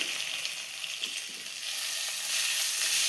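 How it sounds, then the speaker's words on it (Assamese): Mixed vegetables seasoned with Maggi masala fry in a pan for veg fried rice, a steady broadband sizzle with faint scraping from a spatula stirring them, growing slightly louder toward the end. "গোটেইখিনি মিক্স হ'বৰ কাৰণে আমি ধুনীয়াকৈ এনেকৈ হেতাৰে সৈতে লৰাই দিম"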